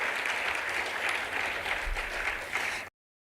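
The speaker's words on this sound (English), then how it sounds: "why don't you clap for that?" An audience at an innovation and industry summit claps together in a short, moderately loud burst of applause that runs for about three seconds and then cuts off abruptly.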